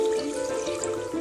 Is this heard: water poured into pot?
yes